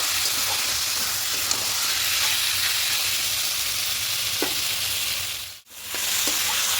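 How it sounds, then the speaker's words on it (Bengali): Chicken pieces being sautéed for chicken kosha in a pan, a loud, steady hissing sizzle with a few stirring taps and a brief dip near the end. "চিকেনটা দিয়ে হালকা একটু কষিয়ে নেব"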